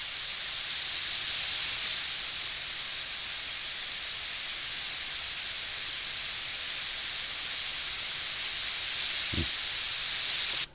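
Airbrush sprayed wide open to flush the tip during micro airbrushing, a loud steady hiss of air and paint held for about ten seconds, then abruptly cut off.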